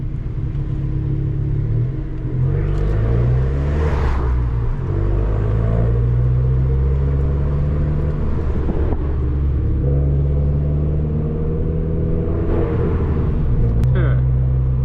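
A small turbocharged car's exhaust rumbles and rises in pitch as it accelerates, echoing off surrounding walls, with the engine note climbing and falling repeatedly, close and loud.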